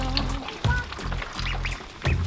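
Ducklings quack repeatedly outdoors in a steady series of calls, close and moderately loud, with low background noise throughout.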